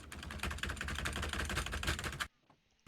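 Fast, frantic clatter of keys hammered violently on a computer keyboard, a dense flurry of clicks lasting about two seconds and then stopping abruptly into near silence.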